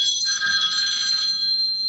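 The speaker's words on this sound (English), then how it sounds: "Is there a phone ringing?" A telephone rings with a bright, trilling electronic tone in one continuous burst, heard fairly clearly on its own.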